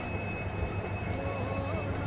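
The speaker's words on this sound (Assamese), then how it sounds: "ট্ৰেইন আহি আছে" A train rolls past close by with a steady, loud rumble of wheels on rails and a thin, high metallic squeal running through it.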